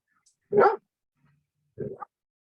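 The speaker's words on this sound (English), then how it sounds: "Your dogs want to go outside." A dog barks twice, a loud close bark followed about a second later by a slightly softer one, with silence between and no talk.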